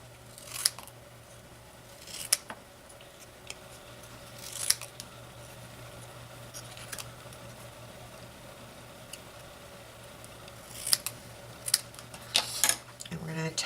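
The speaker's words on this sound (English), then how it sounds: "I just take my scissors and freehand rounding it off a little bit" Scissors snip freehand around a paper craft shape for a Minion-themed Tic Tac box, giving scattered short, close cuts over a steady low hum, with quiet stretches between bursts.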